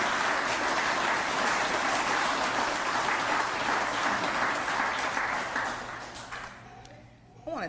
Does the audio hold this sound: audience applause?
yes